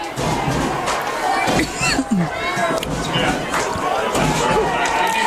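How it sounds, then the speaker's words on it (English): A home crowd at a high school football game, Danvers against Reading, roars and cheers loudly throughout, with a play-by-play announcer talking over the noise and scattered thumps. "this crowd is rocking right now as they're looking for that first win"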